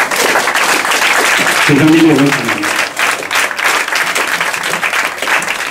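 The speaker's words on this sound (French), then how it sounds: "vous pouvez applaudir." An audience at a charity association event breaks into sustained applause, a dense wash of clapping that carries on steadily while a voice speaks briefly over it.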